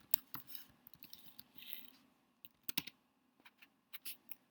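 Quiet, close keystrokes on a computer keyboard as a password is entered: irregular clusters of sharp clicks with brief pauses between bursts, no talking.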